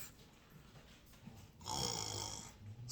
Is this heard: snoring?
yes